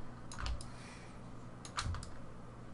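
Typing on a computer keyboard while entering values in Maya 2012 on a computer, with a few quick key clicks in two short bursts over a quiet hiss.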